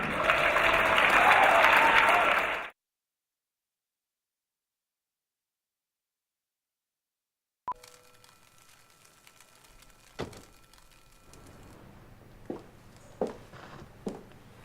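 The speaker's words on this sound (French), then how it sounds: "on peut encore l'applaudir." A short burst of festival audience applause, dense clapping that cuts off abruptly into silence, followed later by quiet room noise, scattered thumps and footstep-like knocks.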